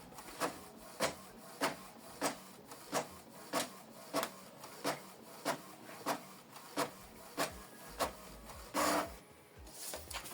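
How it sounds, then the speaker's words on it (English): A Canon Maxify GX2050 inkjet printer works through a two-sided document, giving a regular series of short mechanical clacks about every half second, then a longer whirring feed near the end, close and fairly quiet. "This is the document we printed out, two-sided, from computer with this printer using a USB cable."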